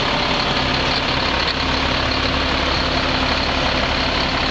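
A 2006 Freightliner M2 dump truck sits idling, its diesel engine giving a steady, continuous low rumble with an even broadband hum, close by and unchanging throughout, with no voices.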